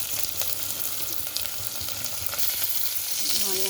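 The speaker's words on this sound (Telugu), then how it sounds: "ఆనియన్స్ వేసుకున్నాను. ఆనియన్స్ గట్టిగా వేగిన తర్వాత ఇది టమాటా వేసుకుంటాను." Onions frying in oil in a pan on a stove for a Telugu dried prawn, tomato and onion gravy curry: a steady, close sizzle with bubbling crackle and occasional stirring scrapes, no talking.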